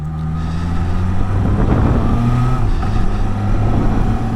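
BMW S1000XR motorcycle in first gear at low road speed, engine revving high with a busy, rising and falling whine and roar, loud and near, continuous throughout without speech.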